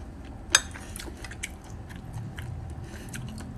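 Filipino bopis is bitten with a sharp single crunch, followed by soft, moist chewing sounds up close and quiet.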